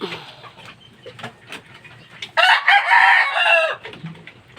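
A Kanaway stag, a young fighting rooster, clucks softly, then lets out one loud, close, drawn-out crow before settling back into low clucking.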